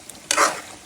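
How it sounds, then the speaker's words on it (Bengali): Potatoes being sautéed and stirred in a pan for a Bengali chicken and potato curry: a sudden, brief burst of sizzling and scraping that flares up, then fades quickly, with no one speaking. "এখন আলুটা কষিয়ে নেব।"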